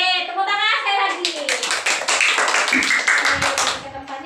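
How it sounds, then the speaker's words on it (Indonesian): Third-grade children clapping hands in an in-person classroom lesson, a quick series of sharp claps that rises into a dense burst, mixed with children's voices and an adult talking over it. "Tepuk tangan sekali lagi."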